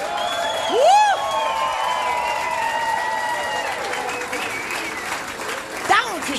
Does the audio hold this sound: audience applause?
yes